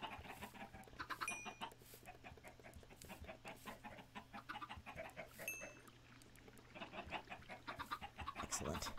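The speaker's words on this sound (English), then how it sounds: "Chickens." Chickens cluck and squawk in a farm setting in the video game Origins, a steady stream of short, near clucks over a low constant hum with no talking.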